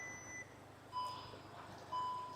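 Interior warning chime of a VW Golf GTI Clubsport, two clear electronic bongs about a second apart, each fading out, in a quiet cabin.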